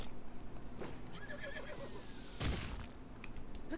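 A horse in Zelda Breath of the Wild neighs and whinnies faintly in the background, with a clip-clop of hooves and a dull thunk partway through. The whole scene is quiet and distant-sounding.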